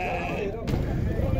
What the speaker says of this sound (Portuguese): o bode é de Sebastião aqui